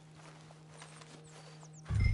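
Horse hooves clip-clop softly in Red Dead Redemption 2, a faint, irregular plodding under a steady hum before a sudden loud thump at the end.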